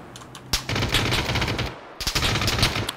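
Rapid automatic gunfire in PUBG: Battlegrounds, loud sustained bursts of rattling shots in two strings separated by a brief pause.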